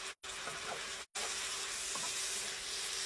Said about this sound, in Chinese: 四季豆不好烧，一定要用油给它煎一下。